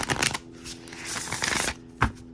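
Astrology cards are shuffled by hand close up, several quick riffling bursts and papery slides with short pauses, ending in a sharp snap, no talking.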